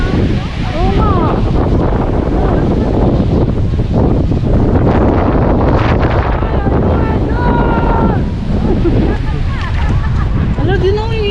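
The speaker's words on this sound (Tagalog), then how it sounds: "Lakas nga ng hangin mga lods." Strong wind buffets the microphone at Looc Beach in Bagac, Bataan, a loud continuous roar mixed with surf, while people talk over it throughout.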